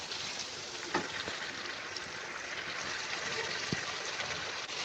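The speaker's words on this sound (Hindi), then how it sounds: "अब देखिए मैं जितना इसको भून रही हूँ उतना ही इसका ऑयल जो है वो सेपरेट हो रहा है।" Beef curry with spices frying in oil, a steady, quiet sizzle with occasional soft stirring knocks and scrapes throughout.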